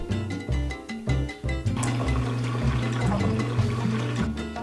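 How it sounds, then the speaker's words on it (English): Masala chai tea pours steadily into a cup for several seconds, a continuous splashing trickle over faint background music. "I'm going to pour some into a cup."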